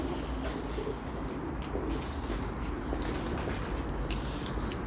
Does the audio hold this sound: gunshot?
no